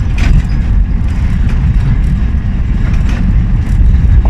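A manual car engine drones steadily in fourth gear while driving, a loud, low, continuous rumble with road noise and no change in pace throughout.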